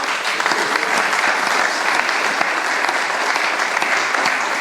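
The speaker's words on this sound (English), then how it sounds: "So each of them deserves our applause." An audience at a candidate debate in Mount Gambier applauds the candidates, a loud, dense, continuous round of clapping with no break, heard alone.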